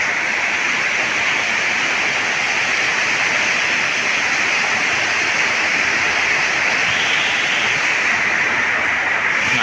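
Heavy rain pours down steadily at a house in rural Thailand, a dense, loud, unbroken hiss that stays even throughout with no voices.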